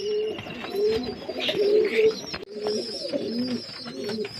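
Pigeons cooing near a keeper's lofts, low repeated throaty coos overlapping in a steady rhythm with a brief dip midway, no voices.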